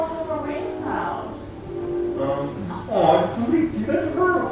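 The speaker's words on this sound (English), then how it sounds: "Why does this girl have a rain cloud?" Rain cloud effect at Universal raining on a girl: steady patter of rain on a surface, fairly loud and close, with voices talking over it.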